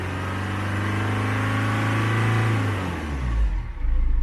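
A stationary car engine with no load holds a steady, loud revving drone, then the pitch drops as the revs fall back toward a rougher idle.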